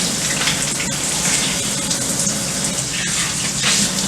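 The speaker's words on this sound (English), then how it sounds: "I'm going to wash my hands" Water gushes steadily from a kitchen tap while hands are washed, a continuous loud hissing stream with faint splashing and no pauses.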